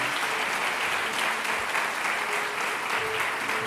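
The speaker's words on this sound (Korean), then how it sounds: "박수하도록 하겠습니다." Guests at a church wedding ceremony in Korea clap steadily, a dense, even applause from a crowd at moderate distance that holds throughout.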